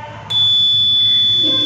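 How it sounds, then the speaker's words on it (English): An Arduino-driven home security alarm buzzer kicks in abruptly after a moment and holds a loud, piercing, steady electronic tone to the end. "Then buzzer will be rang automatically."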